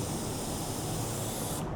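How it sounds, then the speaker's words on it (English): A paint spray gun at around 18 PSI sprays fine paint onto a wheel, a continuous close, steady airy hiss that cuts off abruptly near the end. "so now we're gonna spray it and rotate it at the same time"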